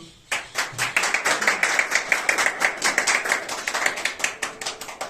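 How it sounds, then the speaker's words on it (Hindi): An audience at a yoga event honouring students applauds loudly, a close, dense burst of clapping that starts abruptly and continues at a brisk rhythm without talk. "तालियां इनके लिए बहुत।"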